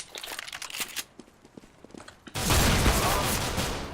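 Gunfire in Counter-Strike: Global Offensive: a string of quick, crisp clicks and small cracks, then a sudden loud roaring burst of shots that keeps going to the end.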